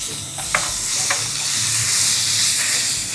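A roasted paste of coconut, coriander, chilli, ginger, fennel and curry leaves fries in a pan for a cashew theeyal, giving a loud continuous sizzle with a few sharp stirring scrapes near the start, no talking.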